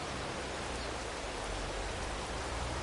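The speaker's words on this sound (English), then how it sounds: "I get everything going and it starts raining." Rain falls in the Farming Simulator 22 video game on PS5 as an even, unbroken hiss at moderate loudness, with no speech over it.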